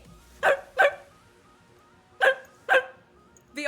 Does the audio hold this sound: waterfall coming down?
no